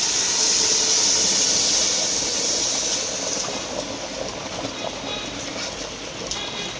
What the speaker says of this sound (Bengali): এখন আমরা গরম পানিটুকু দিয়ে দিচ্ছি